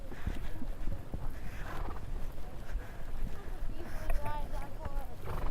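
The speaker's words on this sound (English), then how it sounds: "It's a mule." A mule walks along with soft, irregular hoof clops over continuous outdoor rumble, and voices are faintly audible toward the end.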